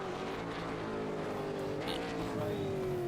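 A GT race car at speed on a circuit during a sports and GT championship race, a high sustained engine note that shifts pitch as it passes, with a shorter engine tone near the end.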